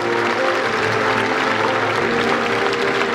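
Sustained, loud crowd applause greets the San Michele Arcangelo statue as its bearers carry it out for the 2018 solemn procession in Solofra, with dense clapping throughout and faint background voices.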